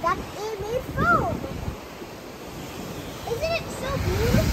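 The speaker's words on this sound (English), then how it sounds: "right now, I see some wild waves. They're so wild that they made foam." Wild Atlantic Ocean waves churn and foam below a Royal Caribbean cruise ship between the Bahamas and Miami, a steady wash of surf and wind rush as someone talks over it.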